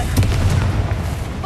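The Confringo blasting spell in the Hogwarts Legacy video game sets off a short, loud, booming explosion, a dense burst of rumbling noise.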